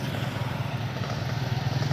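A motor vehicle on a dark road at night, a steady low engine drone that holds close and even for a couple of seconds.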